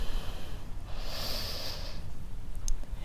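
A single deep inhale through the nose during a yoga session for back pain, close and fairly loud, a smooth airy draw of about a second with no talking over it.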